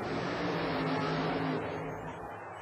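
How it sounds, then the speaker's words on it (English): Supercharged Chevy roadster "Let's Boogie" racing at a monster truck show, a steady, dense engine roar that stays loud and fairly constant before easing slightly toward the end. "Ferroti's supercharged Chevy goes sideways, but he'll stop it with 10 feet to spare"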